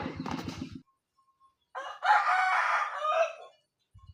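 A rooster crows once in a long, strained call at a rural Thai spot, clear and fairly close, after a brief burst of clucking or fowl noise and then a pause.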